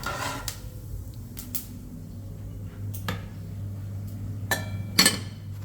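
Mustard seeds stirred in a hot pan until they begin to splutter, giving a few sharp clinks and pops spaced across several seconds over a low steady hum, with no talking.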